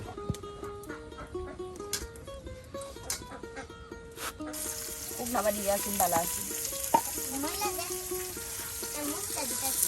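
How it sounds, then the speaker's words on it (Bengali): Chopped onion and chili fry in hot oil in a village kitchen, a steady close sizzle that grows denser and brighter halfway through, with light stirring scrapes and faint background voices. "এখন দেওয়া হচ্ছে মরিচ কুচি সব একসাথে একদম তেলে একদম ভেজে নেওয়া হচ্ছে"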